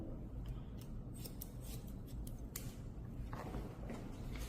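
Scissors snip hair in quick irregular bursts during a hairdresser licence recut practice. The crisp, close metallic clips are fairly faint and sound over a low, steady room background.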